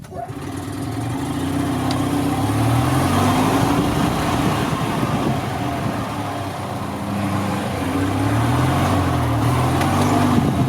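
A 2002 EZGO TXT gas golf cart drives at speed, its small engine droning steadily and loudly throughout, with a low rumbling hum and wind buffeting the microphone.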